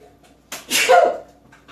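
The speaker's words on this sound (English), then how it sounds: "I gotta sneeze" A single sharp sneeze bursts out close by, with a quick intake of breath just before it and a faint sound after.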